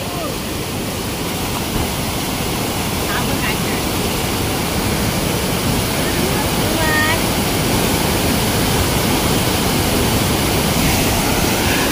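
Small waterfall in a Konkan stream pours over little rocks, a loud, constant close roar of rushing water that fills the whole stretch without letting up.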